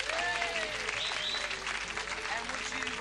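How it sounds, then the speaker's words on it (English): Sustained audience applause fills a studio at a televised program with special guests, dense and steady clapping alongside talk that carries on through it. "would you also keep that clapping going"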